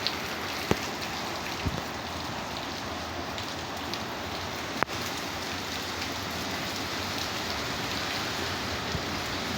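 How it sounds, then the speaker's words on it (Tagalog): Heavy typhoon rain in Cavite falling in a dense, steady hiss, with a few sharp drips and taps standing out. "Samahan pa ng malakas na ulan."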